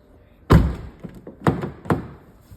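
A Kia Sorento car door is closed with one loud, sharp thunk, then two lighter thumps follow a moment apart, all close by.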